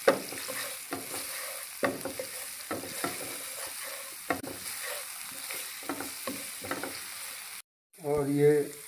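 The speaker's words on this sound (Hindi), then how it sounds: "मैं इसको थोड़ा भून लूँगा।" Ginger-garlic paste with cumin powder fries in a little oil in a pan, giving a soft steady sizzle broken by repeated scraping strokes of a spoon stirring it, close and fairly quiet.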